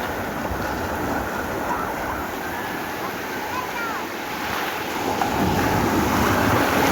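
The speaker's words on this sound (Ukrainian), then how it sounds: "Ось такі хвилі гарні." Steady roar of cold North Sea waves breaking and washing in at a Dutch beach resort, with wind buffeting the microphone; the surf swells louder toward the end.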